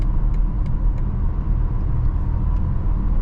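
A BMW car cruising on a highway while its driver-assist system performs an automatic lane change gives a steady low road rumble and tyre drone from inside the cabin, with a few faint soft ticks over it and no talking.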